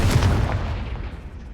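A Confringo spell blast from the video game Hogwarts Legacy lands as one heavy, booming burst that rolls off and fades over about a second, with no voices over it.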